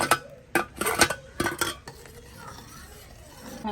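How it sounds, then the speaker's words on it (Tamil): Payasam with cashews stirred in a pot, a run of sharp, close metallic scrapes and clinks of a spoon against the pot, then softer stirring and a low bubbling background with no speech. "நல்லா கிளாவுங்கோ, இல்லாட்டி அடியில் போய் ஒட்டி பிடிச்சிடும்."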